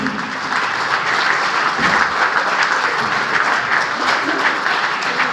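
Audience at a seminar breaks into loud, dense applause, a steady wash of many hands clapping that carries on for several seconds with no pause.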